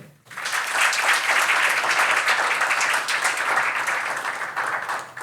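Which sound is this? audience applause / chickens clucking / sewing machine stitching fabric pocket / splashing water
audience applause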